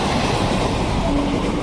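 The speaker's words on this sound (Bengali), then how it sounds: "এখান থেকে রাত 11:30 ট্রেনটা যাচ্ছে" A train rushes past close by at a railway station at night, a dense, loud continuous roar of wheels and carriages with rumbling rail noise throughout.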